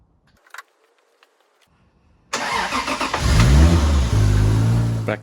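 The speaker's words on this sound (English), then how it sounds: "Back to running on all 6 cylinders with those new plugs and coils" A Toyota Soarer coupé with a six-cylinder Supra engine, back on all six cylinders after new plugs and coils, starts after a few faint clicks, then idles loud and close with a steady, even hum.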